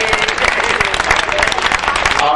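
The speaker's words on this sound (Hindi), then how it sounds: "दोनों हाथ खोल जरा ताली हम बजाइए" An audience at a kavi sammelan poetry gathering claps loudly and continuously, a dense, close wash of applause with no pause.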